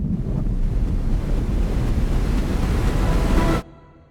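UVI Meteor FX motion pan effect at full depth, sweeping a broad, washy noise-like texture that surges like surf, held loud and steady before cutting off abruptly near the end.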